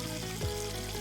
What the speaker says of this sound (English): As I turned the water up to wash a large frying pan.